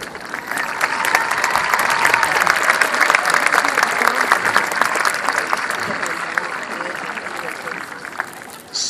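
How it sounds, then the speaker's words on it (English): At a New Bedford High School graduation ceremony, a big crowd gives long, sustained applause, loud and even throughout, with no voices over it. "applause, graduates."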